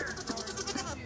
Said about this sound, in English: That is the deepest goat voice I've ever heard.